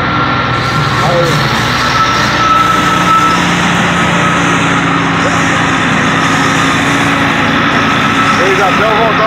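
A truck engine drones steadily on the road, loud and continuous for the whole stretch. Someone talks over the engine noise.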